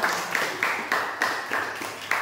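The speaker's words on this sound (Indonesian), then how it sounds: "Oke, tepuk tangan." A school class claps for a group after its presentation on making fried rice, a few moderate bursts of clapping arriving in an uneven rhythm, fairly close and heard on their own.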